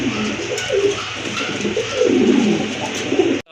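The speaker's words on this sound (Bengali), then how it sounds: "আরেক জোড়া কবুতর, লাহোরি কবুতর।" Lahori pigeons at a pigeon sale cooing continuously in soft, rolling low phrases, close by and fairly loud, with no talk over them.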